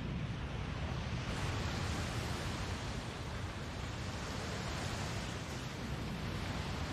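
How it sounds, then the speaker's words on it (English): Storm waves in a One Piece anime episode roar as a steady, broad wash of surf and wind noise, fairly faint and unbroken for the whole stretch, with no voices. "The storm got storming quick"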